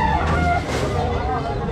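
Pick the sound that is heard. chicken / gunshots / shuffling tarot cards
chicken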